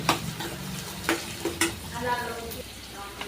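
A spoon stirs onions, fennel, green chili, curry leaves, mustard seeds and cumin frying in a pan for tomato thokku. Sharp scraping clicks land over a continuous close sizzle.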